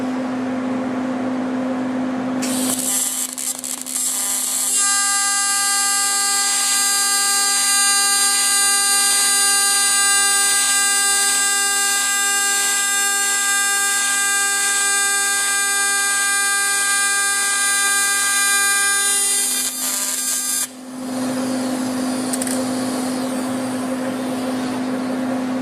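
An aluminum TIG weld run at 400 hertz AC gives a steady, high-pitched electric buzz that holds for roughly sixteen seconds over a background hum, then cuts off abruptly.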